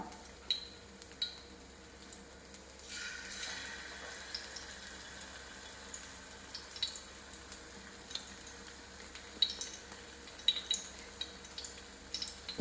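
Batter-dipped ripe jackfruit fritters go into hot oil; a soft, steady frying sizzle swells briefly as the pieces drop in, with scattered small pops and clicks, heard close and without speech.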